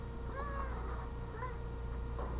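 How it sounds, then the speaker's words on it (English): A domestic cat lets out two or three short meows in quick succession after jumping over a laptop, faint against a steady room hum. "Cat has safely executed the maneuver over the laptop."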